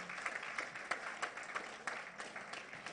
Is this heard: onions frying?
no